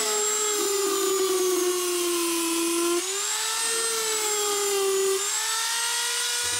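Dremel flex shaft rotary tool with a burr carving wood runs as a steady, close, high-pitched whine, dipping slightly in pitch under load as the burr cuts along the wood, continuous with no talk.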